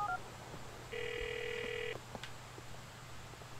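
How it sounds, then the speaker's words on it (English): A phone call in the video game GTA The Ballad of Gay Tony gives one steady, moderately loud ring tone lasting about a second over a low background hum. "Let's call, Luis's mom."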